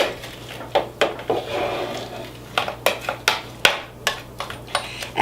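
Scraping the sides of a blender jar holding red pepper pâté: a spatula knocks and scrapes against the jar in a run of quick, close taps and clunks, irregular and fairly sharp.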